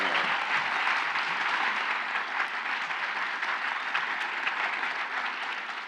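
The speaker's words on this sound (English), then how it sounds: "I'd invite all of you to give them a round of applause" An audience applauds panelists at a journalism discussion, sustained dense clapping from a room full of people that holds steady for several seconds and fades slightly at the end.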